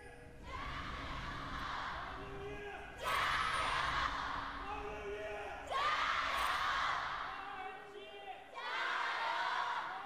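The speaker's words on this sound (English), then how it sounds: "the crowd is still amped and ready, as loud as ever" An esports arena crowd at a League of Legends LPL match between Team WE and Oh My God roars and cheers loudly in repeated swelling waves, each surge rising and then fading.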